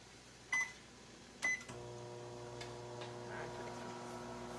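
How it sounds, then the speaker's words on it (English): A microwave oven heating keto lamb chorizo empanada filling for 90 seconds: two sharp clicks or beeps as it starts, then a steady low hum with a faint mechanical whir running on at close range, no talk. "stick it up in the microwave for 90 seconds"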